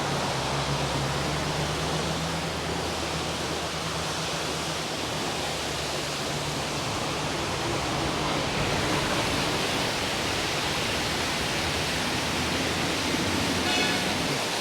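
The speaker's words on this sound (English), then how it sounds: "You can see this huge waterfall here." A huge monsoon waterfall in the Western Ghats along the Shiradi Ghat road roars as a steady, dense wash of broadband rushing water, constant and loud throughout with no talk over it.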